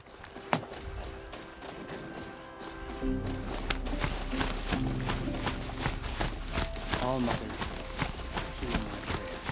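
A horse mount gallops in Horizon Zero Dawn, its hooves clopping in a quick, steady rhythm over game music and effects, with someone talking over the top.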